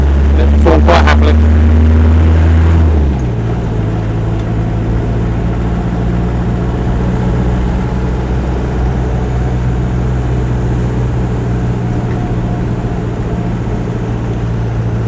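Land Rover 90 2.5 diesel hardtop engine running steadily, a loud continuous drone from inside the cab with a brief rev change near the start, then an even hum throughout.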